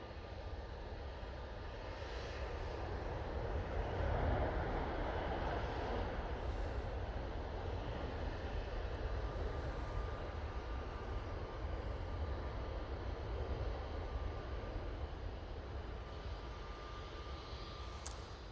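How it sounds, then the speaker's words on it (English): A Ryanair airliner touches down at Manchester Airport, a distant, moderate engine roar that swells briefly and then settles into a steady rumble, with a faint high tone running underneath. "Ryanair, just touching down"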